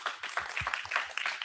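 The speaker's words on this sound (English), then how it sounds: "We give them a big round of applause." Light applause from a conference audience greets panelists invited onto a stage, soft and somewhat distant, with scattered individual claps rather than a roaring ovation.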